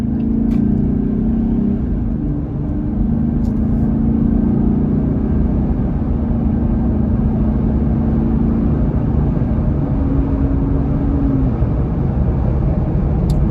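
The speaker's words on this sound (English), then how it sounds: "try to listen for the exhaust note, the cold air intake sound" Jeep Gladiator cruising at 55 mph, heard from inside the cabin as a steady, loud low rumble of exhaust and intake blended with road and wind noise, constant throughout with no speech.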